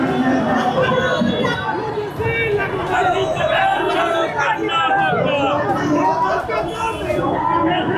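A large crowd of protesters marching at Patna College in Bihar in support of the UGC regulations: a dense, loud, close babble of many voices that continues steadily throughout.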